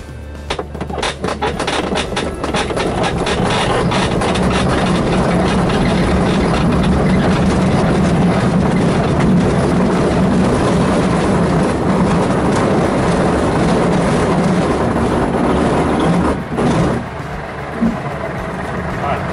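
A glider taking off on runway 18 under tow, heard from inside: a steady loud rumbling roll and rushing wind that builds and holds, with a voice speaking briefly over it.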